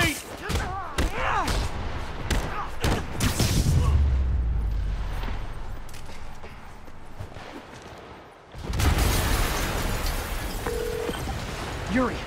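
A video game explosion bursts with a heavy low boom and rumble, followed by gunfire-like cracks, with a lull before another loud burst; voices talk around it.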